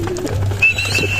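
Racing pigeons kept by a beginner fancier give a brief soft coo in a quiet coop, with faint low background hum and a thin higher whistle-like tone.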